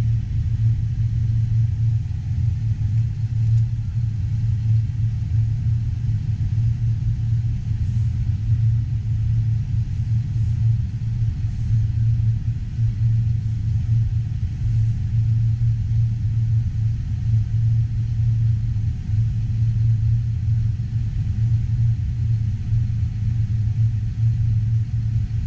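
A farm tractor engine idling steadily, heard from inside the cab during wheat planting in Darke County, Ohio, a constant loud low drone and rumble with no change in pace and no talk.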